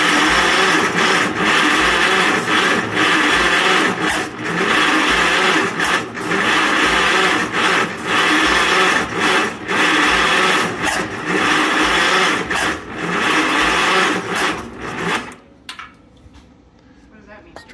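A Mighty Midget Mobilift forklift engine cranks on starting fluid, a loud, steady, grinding churn with rhythmic pulses that runs for about fifteen seconds, then cuts off into near quiet.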